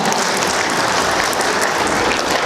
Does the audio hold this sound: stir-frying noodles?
no